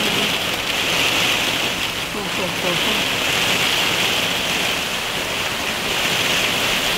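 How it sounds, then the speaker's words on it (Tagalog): Heavy rain pours down steadily in a dense, continuous hiss that stays loud and even throughout, with a voice briefly calling out over the downpour. "kalakas ang ulan"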